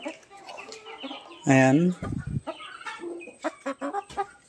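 Rhode Island Red chickens cluck and squawk nearby at feeding time, with one loud drawn-out call standing out among shorter clucks while a person speaks over them.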